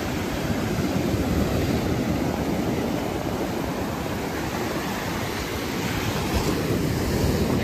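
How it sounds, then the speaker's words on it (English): Ocean surf rolling onto the shore at Navarre Beach, a steady, loud broadband wash of breaking waves with wind buffeting the microphone throughout, no voices. "Look at this ocean, how nice, how clear."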